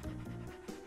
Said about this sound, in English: Oh, you can hear him panting.